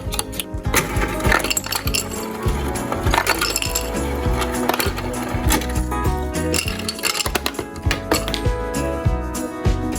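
Ice cubes clinking and clattering into a glass for an iced matcha latte, a loud busy run of hard, bright knocks and rattles, irregular and close, with scattered sharper clinks throughout.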